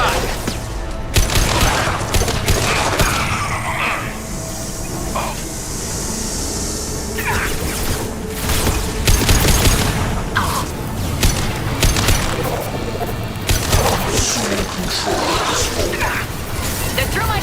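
Heavy gunfire and impacts in the sci-fi shooter game Mass Effect 2, with repeated loud blasts and crashes over dense battle noise, continuing throughout.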